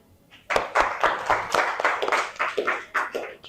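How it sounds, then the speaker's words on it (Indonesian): A school class claps hands in a loose, uneven burst of quick claps after a short quiet moment, fairly close and lively. "tepuk tangan"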